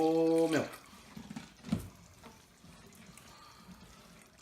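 Milk poured into a pan for a lasagne sauce: a short, soft liquid pour and splash, faint and brief, with an earlier tonal sound at the start.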